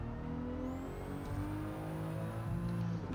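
A Toyota Supra in Gran Turismo 7 pulling away on the Tokyo Expressway, its engine note rising steadily as it accelerates, loud and close, with a faint whine above.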